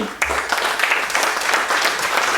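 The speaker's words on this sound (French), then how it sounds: "Allez, on applaudit bien fort." A crowd applauds steadily, dense clapping from many hands at moderate distance, continuing without a break for a couple of seconds.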